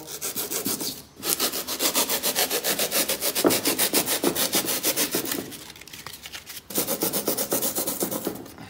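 A toy Ferrari body is sanded by hand, with rapid rhythmic back-and-forth rasping strokes, close and steady, pausing briefly twice before resuming.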